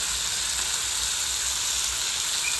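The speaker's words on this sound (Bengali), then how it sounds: "এবার একটু ভালো করে নেড়ে নেব যাতে সব কিছু ভালোভাবে একটু ভাজা হয়।" Chicken with whole green chillies and spices fries in a pan while being stirred, a dense, even sizzle that holds at the same loudness throughout, with no voices.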